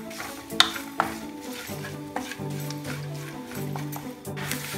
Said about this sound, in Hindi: ये घी में हम थोड़े से ड्राई फ्रूट्स को गोल्डन कलर आने तक फ्राई कर लेंगे